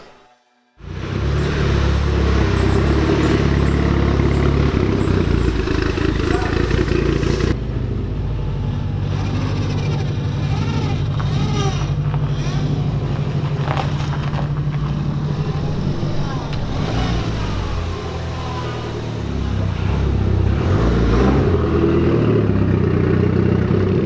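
A Mitsubishi Evo 9 MR engine runs on a dyno, a loud sustained roar that shifts pitch as it revs, with a steady droning stretch midway and voices faintly mixed in.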